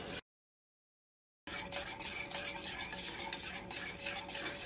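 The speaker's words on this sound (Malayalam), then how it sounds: "നിർത്താണ്ട് ഇളക്കി കൊടുത്തുകൊണ്ടിരിക്കണം" A semolina and milk mixture is stirred steadily in a pan for a sweet, with continuous close scraping and swishing after a short silent gap at the start.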